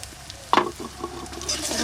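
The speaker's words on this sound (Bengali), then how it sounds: "এবার তরকারি ফোড়ন দেব, সর্ষের তেল দিয়ে দেব, তেজপাতা, শুকনো লঙ্কা" Bay leaf, dried chilli and ground cumin hitting hot mustard oil, a sudden close hiss that settles into a soft, continuous sizzle.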